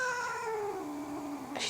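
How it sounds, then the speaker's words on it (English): A house cat gives one drawn-out, falling meow close by indoors, ending in a brief noisy burst, with no speech. "my cat's in here"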